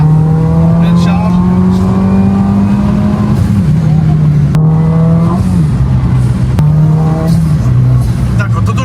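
Abarth at full load with a stage 3 Garrett GBC 250 turbo, the engine note rising steadily in repeated pulls with brief drops between them, loud and close inside the car, with voices talking over it.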